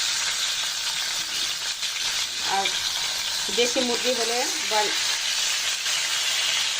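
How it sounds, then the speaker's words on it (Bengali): Broiler chicken pieces frying in oil in a pan, a steady loud sizzle and hiss throughout, with someone briefly speaking over it. "চিকেনের এক পাশ ভাজা হয়ে গেছে, আর এক পাশ উল্টে দিব।"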